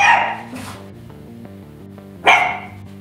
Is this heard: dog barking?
yes